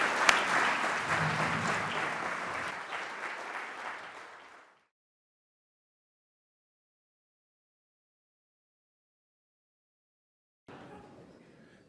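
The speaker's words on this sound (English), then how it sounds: "So give them a round of applause." An audience applauds panelists at a transit summit, with steady clapping for about four seconds that tapers off, then silence, then a faint return of crowd noise near the end.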